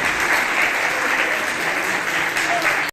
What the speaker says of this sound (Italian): Applausi, tanti applausi